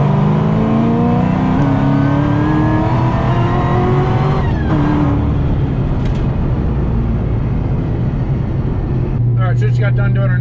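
Ford GT500 running a wide-open-throttle pull at 17 psi of boost, with a loud, steady engine drone rising in pitch as revs climb, a brief shift-like dip midway, and a steady roar continuing to the end, with people talking over it.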